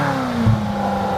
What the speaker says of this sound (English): you get a Ferrari with a Ferrari sound.